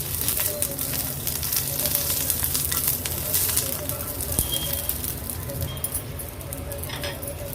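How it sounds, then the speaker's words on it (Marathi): Continuous crackling sizzle of green chillies and garlic cloves frying in oil on a griddle, with occasional scraping of a stirring spoon and faint bird calls in the background. "ह्या तेलावर आपण ह्या हिरव्या मिरच्या आणि लसणाच्या पाकळ्या थोड्या परतून घेणार आहोत"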